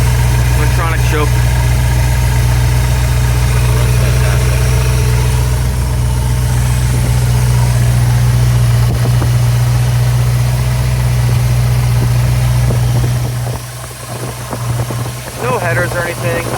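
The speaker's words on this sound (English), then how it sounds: "This is the motor that came with the truck." The original 302 V8 with a four-barrel carburetor and cast manifolds feeding cherry bomb mufflers idles in a 1974 Ford Bronco Sport half cab, a loud, steady low rumble close by that eases off near the end.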